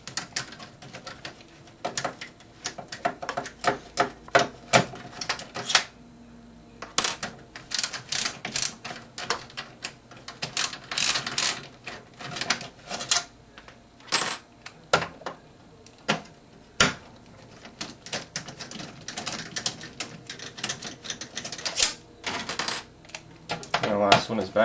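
Case screws come out of an Xbox 360 with rapid clicky ratcheting and plastic rattles in irregular bursts, close and fairly loud, while a person talks in between.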